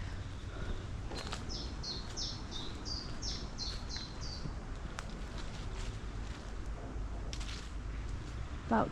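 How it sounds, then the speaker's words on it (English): Birds chirp in a green space near Prestatyn, a quick series of clear repeated tweets early on, then scattered calls over soft outdoor rustle and footsteps. "This is the birds instead of my voice."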